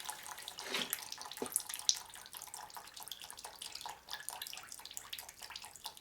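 Fluid drains from a custom Harley Evo chopper during a tune-up and rebuild, pouring steadily into a drain pan with soft splashing and dribbling; quiet, with no talk.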